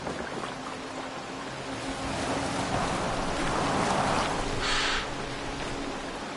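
Boat moving across open water in the video game Assassin's Creed Valhalla, a steady wash of waves and wind with a faint low hum, swelling slightly in the middle before easing off.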